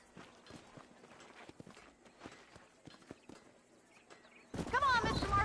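Horse hooves in Red Dead Redemption clip-clop in a steady walking rhythm, fairly quiet and close, before a louder burst of other game sound cuts in at the end.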